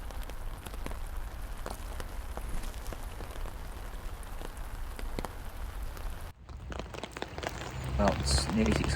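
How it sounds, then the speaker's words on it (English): Heavy rain pours down beside a canal, a dense steady hiss of drops drumming on surfaces, which briefly cuts out before returning louder and closer with sharper splatter. "Now this is a downpour."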